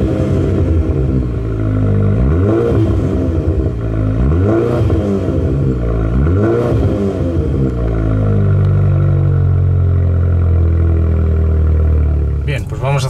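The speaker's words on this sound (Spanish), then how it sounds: "vamos a escuchar el escape" Mercedes-Benz A180 car engine and exhaust heard up close, loud and continuous, with repeated revs rising and falling around the middle before settling to a steady idle.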